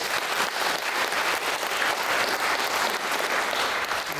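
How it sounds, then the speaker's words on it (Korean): Sustained applause from an indoor congregation for the choir members, conductor and accompanist at a Christian officers' prayer breakfast, many hands clapping in a dense, even wash that stays loud throughout. "대원들 박수 한번 하겠습니다"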